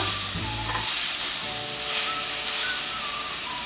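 Sausage and tomatoes sizzle in a pan over medium-high heat, a steady, close crackling hiss that fills the clip, with a brief low clatter of stirring at the start and no talk.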